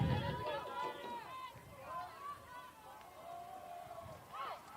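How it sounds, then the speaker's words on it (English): Outdoor crowd at an 11U Cal Ripken youth baseball World Series game murmurs and calls out in the background, a loose babble of voices rising and falling, with talking voices prominent over it. "Crowd making some noise outside."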